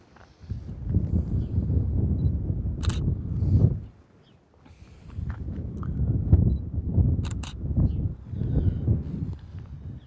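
A camera set to aperture priority takes two pictures, two sharp shutter clicks heard a few seconds apart amid close rustling handling noise and wind, with no talk.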